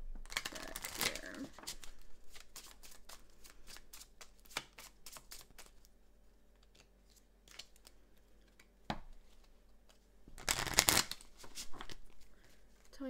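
A deck of Bluebird Oracle cards is shuffled in scattered sharp riffles and flicks, with louder bursts near the start and end, close and crisp in an otherwise quiet room.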